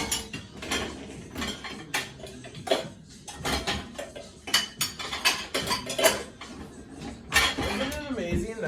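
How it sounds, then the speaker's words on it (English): Utensil stirring and clinking against a pot during home meal prep, a series of irregular metallic clinks and scrapes, fairly close, with a person talking over them. "I'm going to use that to stir it."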